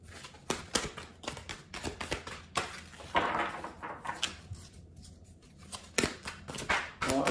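Tarot cards are shuffled and handled close by, with quiet repeated flicks, taps and rustles in an irregular rhythm throughout.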